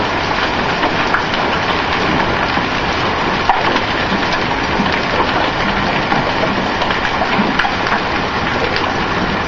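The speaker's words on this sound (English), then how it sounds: "It's just hailing. It's stuff flying off the roof." Hailstones drum hard on a roof and bounce off it during a spring hailstorm, a loud, continuous rattling patter with scattered sharper cracks and no voices.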